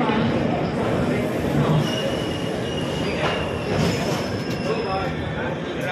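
The Howrah Ahmedabad SF Express runs along the line in a steady, loud broadband rumble of wheels on track, with faint metallic squeals and rattles, heard from inside the coach.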